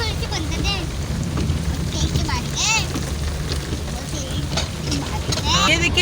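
Heavy rain pours steadily in Islamabad, a dense continuous hiss throughout, with a voice talking over it and a few faint squeaky sounds mixed in.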